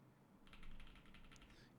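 Quick burst of light key taps on a computer keyboard during code editing, a faint, rapid patter of a dozen or so clicks that starts partway in and continues steadily to the end, with no talking.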